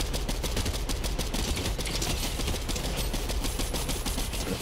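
Gunfire from an online shooter video game rattles in rapid bursts like a machine gun. The shots are dense and loud for under five seconds, with no talk over them.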